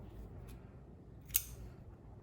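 A single faint, sharp snip of scissors cutting crochet yarn made from knit fabric strip, one brief click in an otherwise quiet, low-level room.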